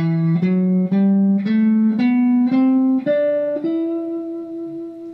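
A guitar plays a minor scale, seven notes stepping steadily up one after another, ringing loud and clear with the last note sustained.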